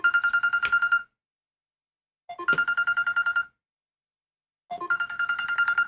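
A phone ringback tone on a call made through Coumi ANC 860 wireless earbuds sounds in three evenly spaced bursts, each a clear, rapidly pulsing trill separated by about a second of silence.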